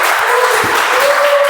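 Audience at a speech marathon club meeting breaks into steady, dense clapping for a contest winner, a continuous wash of applause filling the whole short moment without any voices.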